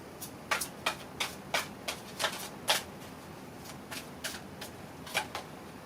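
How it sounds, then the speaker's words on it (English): Tarot cards riffle and slap in short bursts as an oracle deck is shuffled, about a dozen quick papery flutters close to the microphone with no talking. "cards are going flying"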